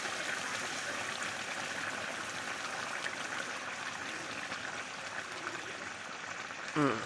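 Water bubbling as it boils in a cooking pot, a continuous soft gurgling hiss with a brief louder clatter near the end.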